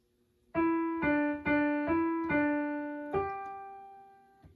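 Six clear piano notes from Jingle Bells played one after another, each ringing briefly, mostly repeating the same pitch before a final lower note, with no voices.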